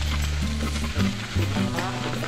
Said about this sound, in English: I'm gonna add another tablespoon of butter.